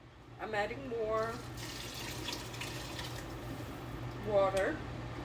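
Water pours steadily into a pot of beef and barley soup, a constant wash of liquid running under a voice, which speaks briefly at the start and again near the end.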